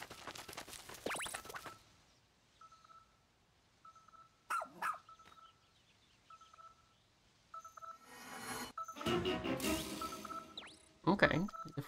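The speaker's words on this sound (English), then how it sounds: "Oh, Archie the puppy." Archie the puppy in Pikmin 4 gives several quick yappy barks between tonal beeps and game effects, with a louder flurry of noise and barking toward the end.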